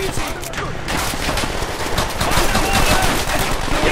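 Pistol fire in the World War II shooter Call of Duty: World at War rattles in dense, overlapping volleys amid loud continuous game combat.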